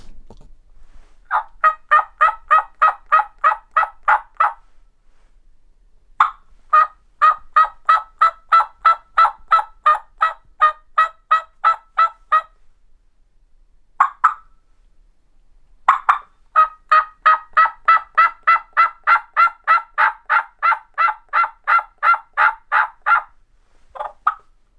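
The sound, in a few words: turkey gobbling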